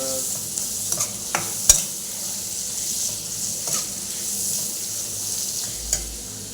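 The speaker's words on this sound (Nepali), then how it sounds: "प्याज भित्र टमाटरलाई पाक्न दिनुपर्छ।" Tomatoes and onions sizzle in a hot pan while a utensil scrapes and stirs them, with steady frying hiss throughout and a few sharp knocks against the pan, close and fairly loud, no talking.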